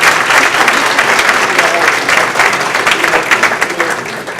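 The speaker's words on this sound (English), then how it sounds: "please give Brother Crystal another round of applause" Sustained applause from an audience at a fraternity Founders Day celebration, dense steady clapping filling the hall for the whole stretch without pause.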